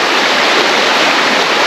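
A river at a campsite rushes in a steady, loud, close wash of water with no pauses or voices.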